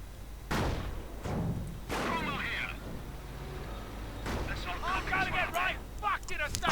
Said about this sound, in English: And a bit of firing going on there.